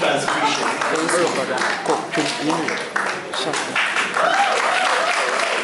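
Applause for a KNUST Hospital team at a Paediatric Society Ghana awards event, steady dense clapping throughout, with voices mixed in underneath.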